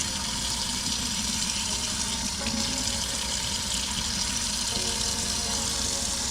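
Tap water runs steadily into a sink while salmon roe is rinsed, a continuous close rushing and splashing with slight shifts in tone as the flow is handled, and no voices.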